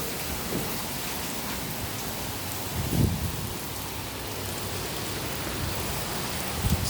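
Steady rain falls through a thunderstorm over Conroe, a dense continuous hiss with a brief swell near the middle and a few heavier thumps toward the end, with no talk.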